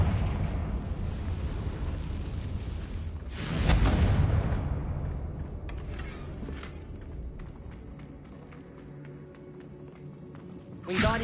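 A Confringo blasting spell explodes in Hogwarts Legacy as a loud, close burst with a deep low-end boom that flares briefly, then decays into rumbling game ambience, with another sharp blast near the end.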